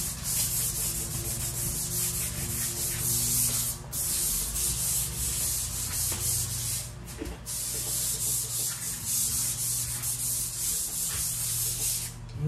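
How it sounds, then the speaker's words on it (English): Sandpaper lightly sands a freshly primed door in a steady, continuous rasping rub that stays loud and close. The strokes run back and forth without a pause and with no talking. "I'm just gonna give it a light sand in case there was anything in the primer."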